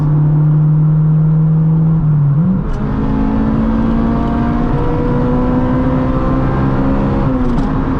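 A modified Honda Integra accelerates hard on a highway at night while racing a Tesla, loud close engine drone climbing in pitch, a quick shift dip near the middle, then a steady rising pull, no talking.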